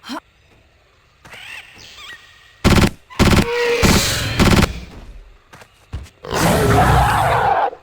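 Rapid bursts from a compact automatic weapon in the video game Trespasser, several loud staccato volleys separated by gaps, with creature roars and squeals in between and a final sustained roar.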